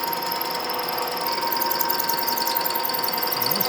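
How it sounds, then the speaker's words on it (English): A drill bites steadily through annealed metal lubricated with cutting oil, giving a continuous, close, chattering machine whine with a fine rapid rattle throughout and no pauses. "I'm going to drill this all the way through to the other side."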